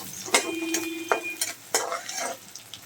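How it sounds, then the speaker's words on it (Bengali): Dried red chilies dropped into hot oil with garlic, onion and panch phoron, giving a near, steady crackling sizzle with a few sharp stirring clinks and pops. "রসুন আর পেঁয়াজ। এবার দিচ্ছি দুটো শুকনো মরিচ"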